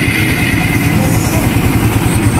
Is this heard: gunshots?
no